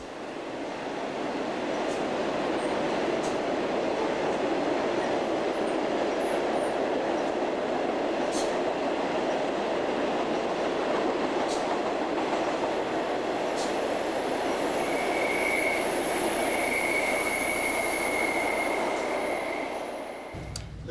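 An L.B. Foster weld train carrying welded rail rolls past on the line between Portland and Brunswick, a steady, loud rumble of wheels on track lasting throughout, with high metallic squeals drifting in and out near the end.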